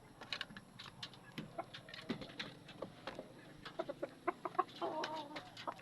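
A Talisay gamecock rooster clucks in short, scattered bursts close by, fairly faint, with a few sharper calls near the end.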